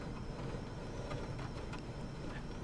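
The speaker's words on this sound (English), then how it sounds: "That's a fair lot of wind." Strong wind roars steadily around a parked Cessna 172 in Alaska, its engine off, a dense continuous rushing that stays loud and unbroken throughout.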